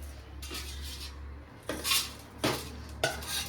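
Metal utensils scrape and clink against a pot and plate in a few distinct bursts over a low steady hum; no talking.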